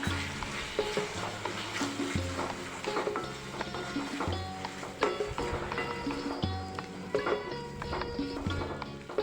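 Chinese fried rice with red chili sauce and soy sauce stir-fried in a pan, a continuous sizzle broken by rhythmic scraping and tossing of the spoon against the metal, fairly faint and close.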